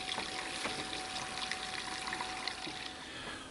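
Tap water running over cooked pasta being rinsed and cooled, a steady splashing stream with a continuous trickling rush, close and unbroken.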